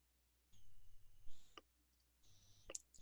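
Mouse clicks on a computer during a walkthrough of an Oracle Database configuration tool, a few short, soft, isolated clicks over faint background hum.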